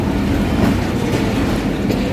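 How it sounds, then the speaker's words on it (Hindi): A Pakistan Railway train travelling from Rawalpindi toward Multan makes a loud, steady rumble with a continuous rattling clatter of wheels, heard up close. "ये पाकिस्तान रेलवे आपको दिखाई दे रही होगी"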